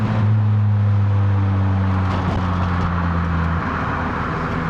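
A 2007 Lotus Exige S engine pulls hard under acceleration, a loud steady drone with strong low harmonics that shift as the revs change, heard from inside the car with no talking.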